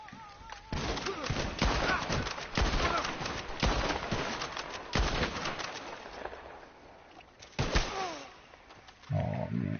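Heavy shotgun slug blasts in Red Dead Redemption Online, a string of loud, spaced booming shots with echoing tails, while a player talks between them.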